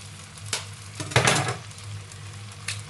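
Eggs hit a hot pan of leftover chicken fried rice with a burst of loud sizzling, set among light scraping and clinks of a utensil against the pan.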